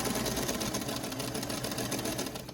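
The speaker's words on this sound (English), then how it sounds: "now I'm just going to continue sewing" A sewing machine stitching a 1/4 inch quilt block seam runs steadily with a fast, even mechanical whirr, close and continuous, easing off slightly at the end.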